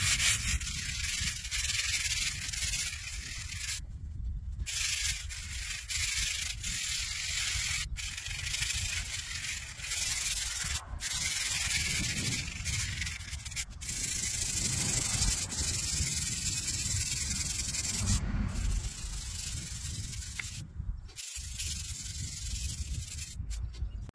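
Continuous close scrubbing and rubbing on a stone surface with a sudsy, harsh cleaner, a hissy, gritty wash of strokes with brief pauses, alone without talk.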